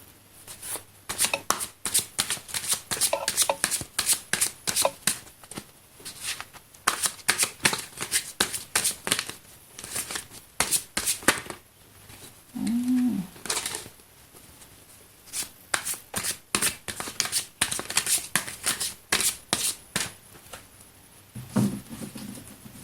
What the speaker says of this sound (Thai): เดี๋ยวเรามาสับไพ่กันก่อนเลยนะ